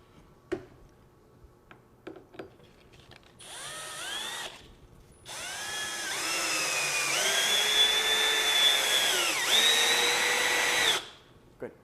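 A power drill drives a screw into a taxidermy form, spinning up in a short burst, then a longer whine that rises and steadies over several seconds before stopping, with a few faint clicks and handling noises around it.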